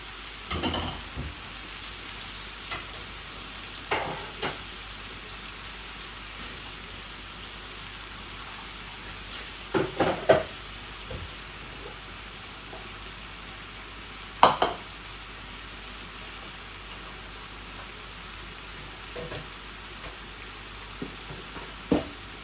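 Shrimp and vegetables frying in a little oil, a continuous low hiss of sizzling with occasional sharp spatters and stirring knocks, heard close and steady throughout, without speech.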